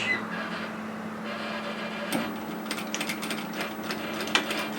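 A sewing machine stitches a one-centimetre seam on a capelet hoodie, a quiet mechanical hum with rapid light clicking that picks up in the second half.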